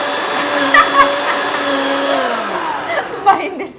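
A blender grinds a brownie milkshake with ice cream, its steady, loud motor whine holding for a couple of seconds before slowing and winding down near the end.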